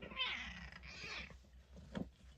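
A female house cat that wants to play meows twice in long, drawn-out cries close by, followed by a shorter, softer call, with quiet pauses between them.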